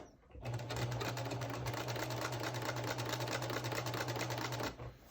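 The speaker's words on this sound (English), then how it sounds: "And then you just sew across it with your 1/4 inch seam." A sewing machine runs steadily for about four seconds, stitching across a quilt block for a friendship quilt with a quarter-inch seam, a continuous close whir with a low hum that stops abruptly.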